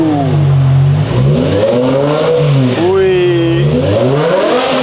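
A BMW car engine revs repeatedly, rising and falling in pitch through several strong throttle blips, loud and close, with a brief exclamation from a person over it.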